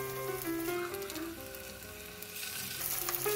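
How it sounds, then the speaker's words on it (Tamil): Chicken patties frying in hot oil in a pan, a dense continuous crackling sizzle close up, steady and moderately loud without any voices. "இதல கொஞ்சம் oil ஊத்தி இதல அந்த chicken patties நம்ம fry பண்ணி எடுக்கணும்"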